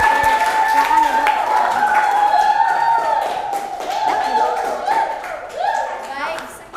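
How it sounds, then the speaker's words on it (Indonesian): Students in a seventh-grade mathematics classroom clap for the third group after its presentation. The steady applause runs throughout, with voices and some cheering mixed in. "kita beri tepuk tangan dulu untuk kelompok yang ketiga"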